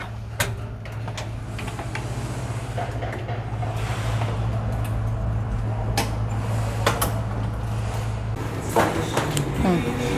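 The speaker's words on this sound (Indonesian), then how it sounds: "pelan-pelan buka pintu." A door is eased open slowly, giving scattered clicks, knocks and soft scraping over a steady low hum, with faint voices in the background.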